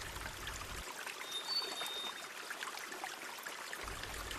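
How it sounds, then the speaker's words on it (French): La Fortuna waterfall in Costa Rica cascading through a narrow gorge, a soft continuous rush and trickle of falling water heard from a distance, steady and quiet with no voices. "une formidable cascade qui dégringole dans un goulet étroit"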